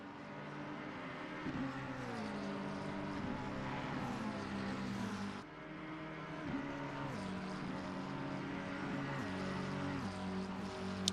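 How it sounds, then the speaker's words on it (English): Race car engines in the Assetto Corsa Competizione racing game at Monza, continuous high revving whine with rising and falling gear changes and passing cars, faint overall, no talk. "Love the sound of these engines."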